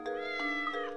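A cat meowing in the Professor Layton and the Curious Village video game, heard as a clear, close, drawn-out meow with a rising and falling tone that fills the moment, with no talking.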